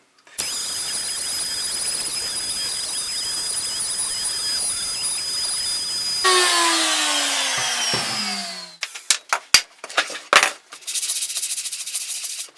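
A CNC router fitted with a plastic-cutting bit meant for plexiglass carves into wood with a loud, steady high-pitched whine, then the tone sweeps down as the spindle slows, followed by a few sharp knocks and a shorter burst of cutting.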